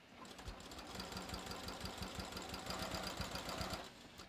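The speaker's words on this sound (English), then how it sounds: "I'm going to stitch the rest of it going in this direction" A sewing machine runs steadily while stitching a bathrobe, a fast even mechanical chatter of needle strokes with a low motor hum that continues unbroken for several seconds at close range.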